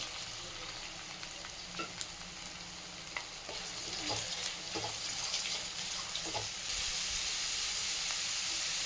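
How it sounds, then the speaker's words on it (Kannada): Carrots, beans, knol-khol and peas go into a pan for poha vegetable bath, bringing a steady soft sizzle and frying hiss with occasional stirring clatters close by, rising slightly in intensity partway through. "ತರಕಾರಿ ಹಾಕ್ತಾಯಿದ್ದೀನಿ. ಕ್ಯಾರೆಟು, ಹುರುಳಿಕಾಯಿ, ಗೆಡ್ಡೆಕೋಸು, ಬಟಾಣಿ 3 ಥರ ತರಕಾರಿ ಹಾಕಿದ್ದೀನಿ."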